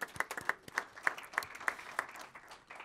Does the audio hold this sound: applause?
yes